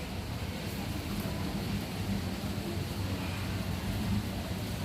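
Steady, dense rain from Typhoon Noru hisses continuously at a moderate level in the afternoon after a full night of rain, with no voices and no breaks.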